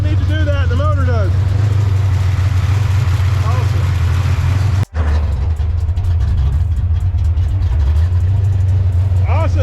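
Windsor 408 stroker V8 swapped into a Fox Body Mustang notchback idles with a deep, steady low rumble, close by, while people talk over it; a brief cut interrupts midway before the thrumming idle resumes.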